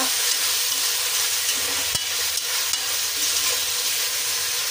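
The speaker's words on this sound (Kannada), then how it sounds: "ನೋಡಿ, ಬಾಳೆಕಾಯಿ ಬೇಯ್ತಾ ಇದೆ" Raw banana curry frying in a pan of oil with tomato added, a steady close sizzle and hiss with a brief stir or clank partway through.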